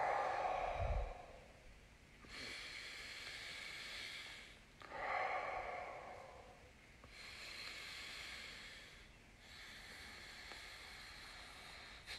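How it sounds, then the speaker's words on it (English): During a kapalbhati breathwork session, slow, deep, close breaths alternate in long airy inhales and exhales of a few seconds each, with soft hissing and no speech. "just relax everything, breathing in 3 times."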